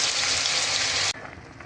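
Water comes to a boil in a cooking pot, a loud, dense bubbling hiss that cuts off abruptly partway through and leaves a quieter, softer simmer.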